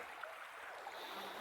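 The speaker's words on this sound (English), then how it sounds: "This is Conneaut Creek we are in." Water of Conneaut Creek, a shale-bottom stream over sedimentary rock, flows in a soft continuous rushing wash, close and steady with no voices.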